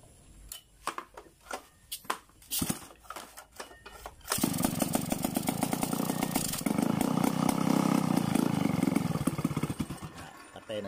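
A 070 chainsaw with a carburetor overflow problem, first sputtering through uneven pops and cranks, then catching into a loud, steady roaring run close by, with faint speech early on.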